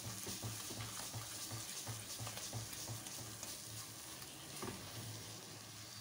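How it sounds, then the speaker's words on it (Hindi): Carrot halwa (gajar ka halwa) with khoya is roasted and stirred in a pan, giving a steady loud sizzle with repeated scraping strokes of the spoon against the metal throughout. "देखिए बस मैं इसको भूनती जा रही हूँ"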